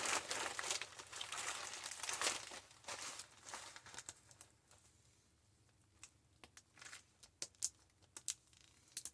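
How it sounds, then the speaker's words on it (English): A plastic zip-top bag filled with a dry holiday tea mix crinkles and rustles as it is handled, pressed flat to push out the air and zipped shut. The crackling comes close up in dense bursts, then turns into sparser sharp crinkles and clicks. "Make sure your bag zips."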